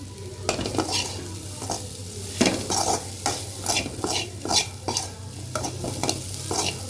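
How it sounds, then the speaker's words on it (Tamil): Mashed raw banana podi mas sautés in oil while being stirred, with repeated rhythmic scraping and clinks of the utensil against the pan over a steady sizzle, close and without voices. "நல்லா அப்படியே சுருண்டு நல்லா எண்ணெயிலேயே நல்லா வதங்கி பச்சை வாசனை போகிற அளவு பரட்டி எடுக்க வேண்டியது தான்"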